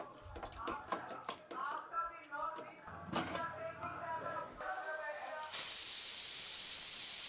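A loud, steady hiss of steam bursts from a pressure cooker cooking gizzard curry and continues, following a stretch of clattering and muffled voices.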